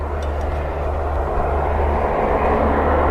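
Osprey tiltrotor aircraft flying near RAF Mildenhall, a steady broad rumbling roar of engines and rotors, fairly loud and continuous with no talk.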